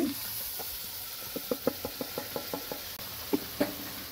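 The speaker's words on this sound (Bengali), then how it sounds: "মাংসগুলো ঢেলে দিচ্ছি।" Beef pieces poured into onions frying with cumin give a light sizzle under a run of about a dozen close, evenly spaced metallic knocks of a spoon against the pot.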